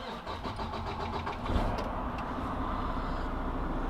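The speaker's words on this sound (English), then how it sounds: "We just started this big semi-truck." A big semi-truck's diesel engine cranks and catches, then settles into a steady, rumbling idle, heard close and alone.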